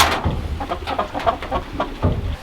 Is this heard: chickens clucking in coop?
yes